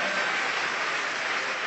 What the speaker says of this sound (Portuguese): Vamos juntos dar a melhor salva de palmas que o Rio de Janeiro já